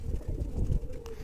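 Pigeons coo softly in their training cages, a low murmuring burble pulsing through the moment, close by and steady with no talk over it.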